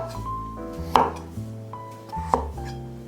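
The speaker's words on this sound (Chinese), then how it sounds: "把削好皮的红萝卜切下来。 红萝卜也是切成滚刀块。" A knife chops peeled carrots into roll-cut chunks on a cutting board. Two distinct, crisp strikes land about a second and a half apart over soft background music.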